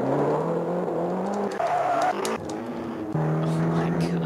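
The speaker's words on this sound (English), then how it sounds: "the car is just making all noise" In the MAME arcade racing game Blomby Car, a buzzy synthesized car engine drones continuously, shifting pitch in steps as the car speeds and slows, with brief skid-like bursts over it.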